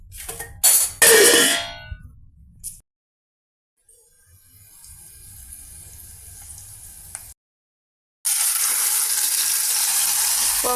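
Amaranth-leaf dal (thotakura pappu) tipped into a pan of sizzling spice tempering, giving bursts of loud crackling sizzle at the start, then quieter frying and a later stretch of strong steady hiss.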